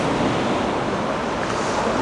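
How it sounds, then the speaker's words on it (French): Ocean surf on a beach with smooth, clean wave faces, a steady broadband wash of breaking water with wind noise, continuous and fairly loud throughout. "un plan d'eau qui reste propre, des phases de vagues qui sont lisses"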